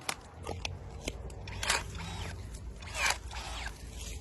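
Battery-powered pruning shears rated for 4 cm branches, running without a full charge, snip through a branch with a few sharp crunching clicks and crackles, close up, with light handling noise and no voices.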